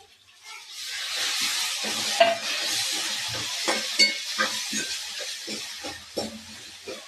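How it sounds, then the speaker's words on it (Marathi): Bay leaf, black peppercorns and tomatoes sizzle and fry in a hot pan for masala khichdi, a steady close hiss broken by scraping stirs and soft clinks, with no talking. "त्यात मिरे टाकून देऊ, मिरे पण तळून घेऊ आणि टमाटे टाकून देऊ।"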